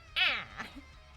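A cat gives one short, clear meow, close and moderately loud, followed by a softer trailing sound, with no talk.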